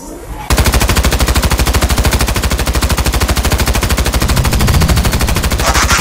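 Rapid, loud machine-gun style gunfire from a toy Transformers Ironhide robot's new weapons in a stop-motion animation, a continuous burst of evenly spaced shots running for several seconds after a brief quiet start.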